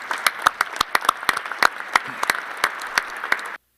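An assembly audience at an Olympic committees' general assembly in Seoul applauds for Beijing, with steady crisp clapping from many hands at moderate volume that cuts off abruptly.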